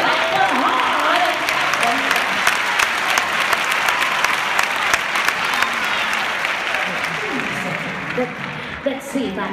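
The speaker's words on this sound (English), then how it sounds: "Clap those hands. Clap them hard." A congregation claps hands hard and steadily at a church service during a sermon, a dense continuous roar of applause that holds loud for the whole stretch with a few sharper claps standing out.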